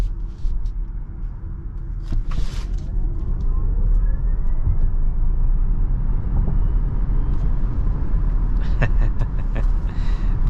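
2023 Genesis GV70 Electric accelerating, heard from inside as a steady low road rumble and tyre noise swelling gradually with a faint rising electric whine, no engine note.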